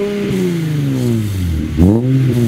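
A Nissan V6 swapped into a BMW E46 3 Series, with an exhaust made to sound like a trumpet, revs up loudly and up close: a rising, tuneful, brassy engine note that dips and then surges again.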